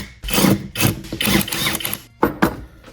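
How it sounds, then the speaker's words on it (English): A ratchet or power tool whirs in short bursts, removing 10mm bolts from the compressor housing of a failing Fiesta ST turbo, close and loud with brief pauses between each burst and no talking. "these 4 10mm bolts, just pop them out and we should be able to take it right out."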